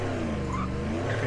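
A car engine revs hard at the launch of a drag race in the video game Racing Rivals, a dense, loud, sustained engine roar with no voices.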